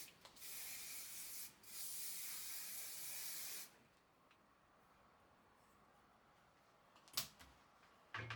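Two quick bursts of Paul Mitchell heat protective hair spray hiss close by from an aerosol can, the second lasting a couple of seconds, followed by quiet and a few faint handling sounds.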